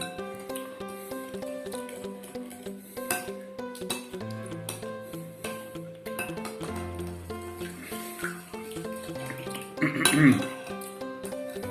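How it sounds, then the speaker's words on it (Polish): Cucumber salad is stirred in a bowl with a utensil, giving steady repeated clinks and scrapes against the dish for several seconds, close by, with a louder clatter near the end. "Mieszamy, mieszamy. Chlapiemy i mieszamy."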